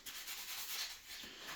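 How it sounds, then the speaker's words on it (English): Soft, close sandpaper rubbing rasps back and forth in quick strokes on a scale model Toyota Xtracab panel, a faint dry scratchy hiss with no voices. "you fold your sandpaper over it to get it to work for you a little bit more"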